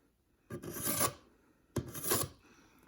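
An Insingo knife edge is dulled with two firm, rasping scrapes about a second apart, close and clear against near silence.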